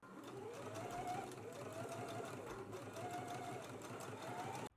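A sewing machine runs steadily, stitching fabric for a spiral rose flower, its continuous whirring motor carrying a faint rhythmic pulse for nearly five seconds before stopping abruptly.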